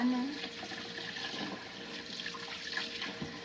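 Fish being rinsed under running water at a sink, a steady splashing tap flow with soft gurgles, close and moderately quiet throughout.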